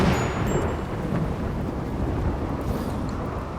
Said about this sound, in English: It's a rainy thunderstorm.